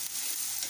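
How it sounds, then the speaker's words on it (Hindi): Tomato puree sizzles in a pan, a steady, bright, close hiss of frying that holds evenly for a brief moment with no voices. "बड़े टमाटर की प्यूरी बना के वो डाल रही हूँ"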